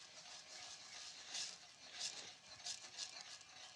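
A spoon stirs dried bread into a liquid sauce in a pan: soft, close scraping and swishing strokes repeating in an uneven rhythm, fairly quiet, with a faint sizzle underneath and no talking.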